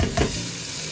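Beef hits a hot pot for Karachi-style biryani with a brief hissing sizzle, a short burst of frying crackle that settles into a steady, moderate hiss.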